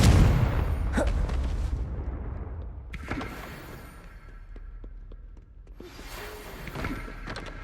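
A Confringo spell explosion in Hogwarts Legacy, a loud booming burst at the start followed by sharp impact cracks and a lingering rumbling tail, with a second blast later.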